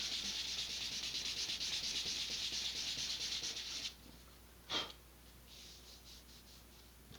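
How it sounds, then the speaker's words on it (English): Steady, close scratchy sanding rubs along the seam of an Estes Sentinel model rocket for a few seconds, then they stop, leaving one sharp scrape and quiet faint rubbing. "I'm just going to focus my sanding efforts right along that seam here for a moment"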